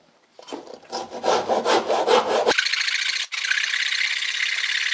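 A hand saw cuts through a wooden door frame in a rural house demolition, giving a run of rhythmic rasping strokes that stops abruptly and gives way to a steady hiss.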